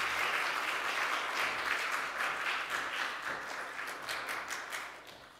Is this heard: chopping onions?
no